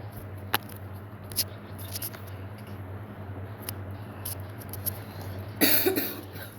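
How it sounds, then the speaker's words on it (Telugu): A person coughs in a quiet room: a few faint, sharp clicks and bursts, then one louder, harsher cough near the end, close by. "నాకేదో కొంచెం కాఫ్ వచ్చింది"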